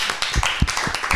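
Hands clap in applause, a quick run of sharp, close claps at an uneven rhythm, fairly loud and with no talk over them.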